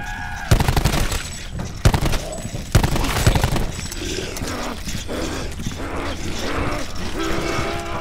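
Heavy gunshots in Call of Duty Black Ops 4 boom in a few loud separate blasts early on, then give way to busier, softer game noise and mechanical clatter.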